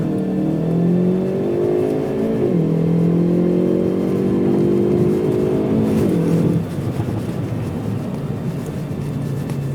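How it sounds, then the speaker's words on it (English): A Hyundai i30 N surges away under launch control, its engine note climbing steadily through the gears with a clear drop at each upshift, loud and close with no talking. "then the launch will start as soon as you release the brake pedal"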